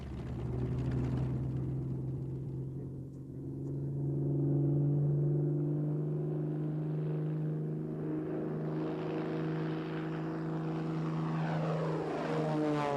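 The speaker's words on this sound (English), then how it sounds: "the first 190, known as V1, taxied down Bremen's airfield to put the new theories to the test" The Focke-Wulf Fw 190 V1 prototype fighter taxis on Bremen's airfield, its propeller engine giving a steady, loud droning hum with a throbbing tone that shifts slightly in pitch as it moves past.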